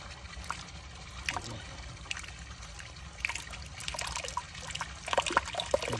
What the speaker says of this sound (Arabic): زين صوت الماء ما شاء الله، صب جدا